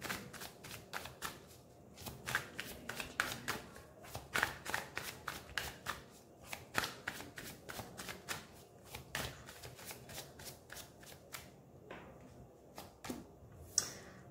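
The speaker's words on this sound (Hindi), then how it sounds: "पहले मैं यहां से भी कार्ड्स निकाल लेती हूँ आप लोगों के लिए।" Tarot cards being shuffled and drawn by hand, close and soft: rapid riffling flutters and papery slaps in steady bursts, easing into a few sparse card snaps near the end, no talk.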